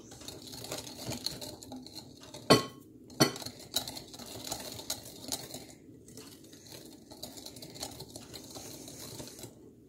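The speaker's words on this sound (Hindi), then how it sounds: "अब मैं इसके अंदर ये जो मैदा और कोको पाउडर और बेकिंग पाउडर हमने छान के रखा था ये डालूंगी आधा। और इसको मिक्स करूंगी।" Flour, cocoa and baking powder being mixed into a batter in a bowl for a black forest pastry: soft, uneven scraping and stirring with two sharp clinks of utensil against the bowl, fairly quiet.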